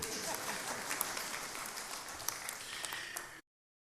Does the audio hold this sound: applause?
yes